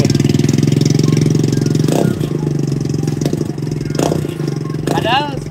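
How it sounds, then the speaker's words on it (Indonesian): A Scomadi scooter engine running on its standard stock exhaust, a steady close putter with a couple of brief blips, heard under people talking. "Ini knalpot bawaan."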